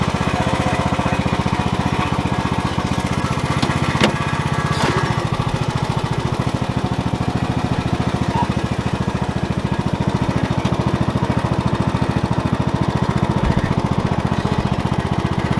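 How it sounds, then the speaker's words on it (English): A John Deere riding lawn mower with a newly installed drive belt runs steadily on a test ride, its engine droning loud and close without a break, with no one talking. "we've got that little John Deere going one more time. Just take it for a little test ride."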